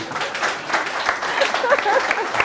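An audience in a lecture hall claps steadily for a couple of seconds, a moderately loud patter of many hands with a few voices mixed in.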